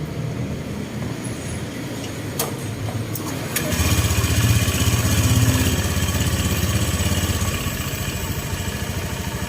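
A motorcycle engine starts during a repair test after an oil seal was replaced, then runs with a steady, fast rhythmic chug. Close and fairly loud after a few sharp clicks and clatter before it fires up.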